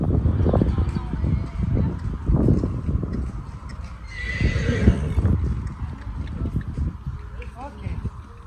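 A horse moves about during a liberty circus training session, its hooves thudding and clopping close by while it gives a whinny, with people talking over much of it.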